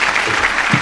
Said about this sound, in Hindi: जोरदार तालियों में इस्तकबाल कीजिए।